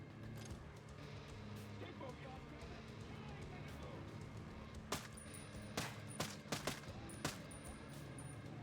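Gunfire in the tactical shooter Ghost Recon: Breakpoint, a handful of sharp separate shots in the second half over a steady background bed, with someone talking throughout.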